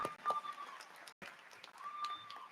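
Audience applause at the Northeast High School 2024 commencement, a steady wash of clapping from a large crowd that briefly cuts out mid-clip before resuming, with whistles and a few scattered voices.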